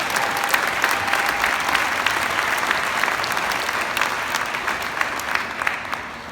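A crowd at a men's basketball national championship celebration applauds, producing dense, sustained clapping at close range that holds steady and then slowly tapers near the end.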